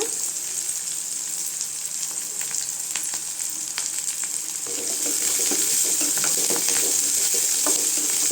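Dried red chillies, garlic and onion fry in a pan for coriander chutney, with a continuous sizzle and repeated scraping stirs. The frying grows noticeably louder partway through.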